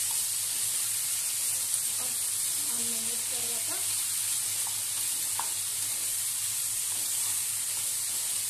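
Tomato sizzling in a pan of eggplant and potato curry, a steady bright hiss running throughout, with faint clinks and a soft voice murmuring underneath.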